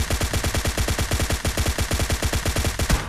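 Rapid, evenly spaced gunshots in PUBG Mobile Lite, loud and close, with about twenty cracks in three seconds and no voices.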